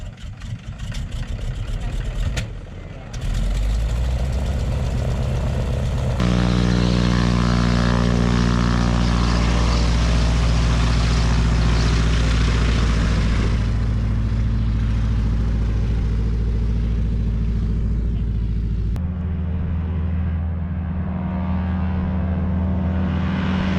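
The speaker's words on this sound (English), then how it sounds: "Thomas came over and asked if she wanted to go for a flight as he had an extra seat in his Beaver" De Havilland Beaver propeller airplane in flight, its radial engine droning loud and close from inside the cabin with a steady low throb and shifting pitch as power changes.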